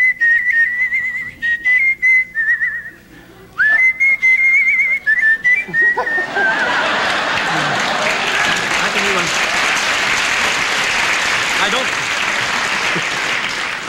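A man, a national whistling champion on a 1979 television talk show, whistles a bright sustained tune for several seconds, then a studio audience breaks into loud continuous applause.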